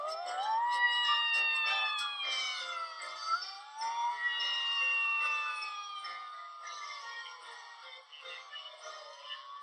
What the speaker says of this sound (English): They turn on the sirens and everyone gets out of their way.